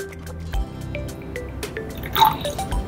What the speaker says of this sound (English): I'm gonna add to that some hydrochloric acid